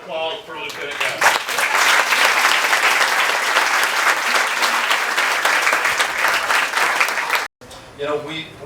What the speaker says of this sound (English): One more round of applause for Lieutenant Adams.